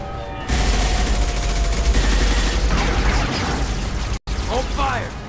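Gunfire in Mass Effect 2, dense sustained bursts of weapon fire with mechanical clatter and booms, loud and close, running under shouted voices from the game's characters.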